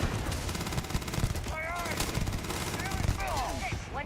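Gunfire from a weapon in the video game Starfield: a run of sharp, repeated shots in quick bursts, mixed with whistling sci-fi game effects and a voice talking over the action.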